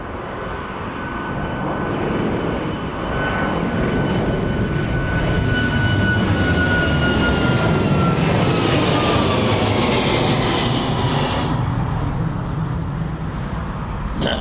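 Fixed-wing aircraft on a wet runway at East Midlands Airport, a loud continuous engine roar with a rising whine that holds steady throughout, no talking.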